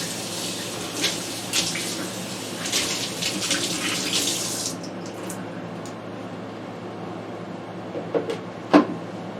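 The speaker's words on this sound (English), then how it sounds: "We'll rinse this off with cold water because it's really hot now." Cold tap water rushing into a hot pot used for sweet tea for several seconds, then stopping, followed by a few faint clinks and a soft knock.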